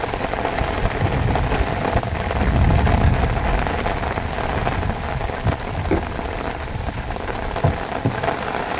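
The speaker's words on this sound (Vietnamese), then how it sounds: "ông mưa lớn lên luôn rồi em ơi." Heavy rain pours down steadily over a shrimp pond in rural Vietnam, a dense, loud hiss of drops on water and surfaces, with a low rumble of distant thunder swelling briefly partway through.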